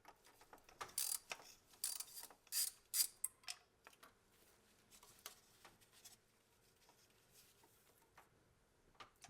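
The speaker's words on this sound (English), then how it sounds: "Remove these two screws." Two screws are backed out of the ignition module on a Ford Bronco distributor, giving quiet, close ratcheting clicks and small metallic taps in irregular bursts, louder early on and fading later.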